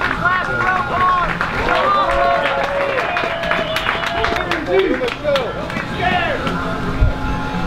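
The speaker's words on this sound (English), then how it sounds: "Let's have loud applause for this last row." A loud crowd at a disc golf championship claps and cheers together, with busy overlapping hand claps and shouting voices blending into a dense, lively roar.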